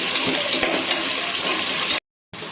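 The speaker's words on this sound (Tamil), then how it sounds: "வெங்காயம் நல்லா வதக்கணும்." Onions sautéing in a pan for prawn biryani give a steady close sizzle with faint stirring scrapes, then the sound cuts out briefly before the frying resumes.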